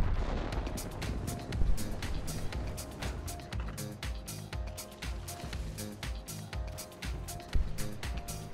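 Heavy derp gun on a Sheridan light tank firing in a tank video game, loud booming blasts repeating at short intervals, mixed with dense rumbling battle noise and other gunfire throughout.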